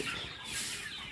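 Sonali chickens cluck in a short burst, close by, with a steady hiss of background noise.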